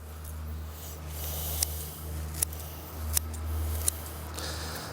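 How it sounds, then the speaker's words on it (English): Four crisp scissor snips at a steady pace, close by, each a sharp metallic cut through stinging nettle plants over a quiet outdoor background. "I use my scissors wherever I go because it's the easiest way to harvest."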